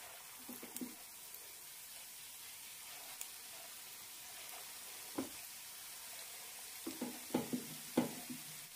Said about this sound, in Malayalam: എണ്ണ ചൂടായിട്ടുണ്ട്. കൈ നനച്ച ശേഷം ചെറിയ ചെറിയ ഉരുളകളായി ഇടാം.